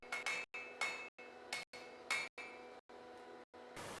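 Hammer striking hot forged iron on an anvil while straightening blacksmith tongs, about eight ringing metallic blows in a steady rhythm, each with a bright clang and short decay, close and alone.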